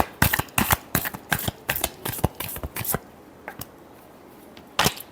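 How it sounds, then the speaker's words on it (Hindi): Tarot cards shuffled in a quick run of about ten crisp riffling bursts over the first three seconds, then quiet with a couple of faint flicks and one last loud burst near the end; no talking. "Last shuffle."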